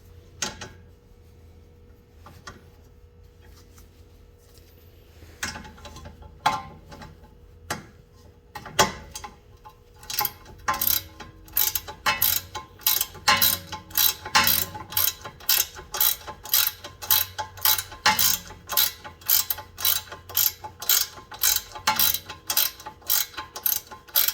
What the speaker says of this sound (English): You're going to want your ratchet on counterclockwise. You're going to want it on loosen.